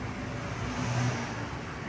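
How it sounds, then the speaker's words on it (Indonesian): Two Hino tronton trucks passing on a busy road at evening rush hour, a steady low engine rumble and roadway hiss that swells slightly at the middle, loud and continuous against traffic. "Oh, itu terlihat dua tronton berurutan."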